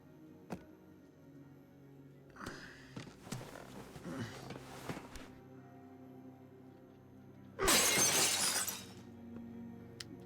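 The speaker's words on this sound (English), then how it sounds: "Then I heard the glass breaking." Glass shatters once in a loud, close burst in The Walking Dead video game, after quieter thumps and rustling.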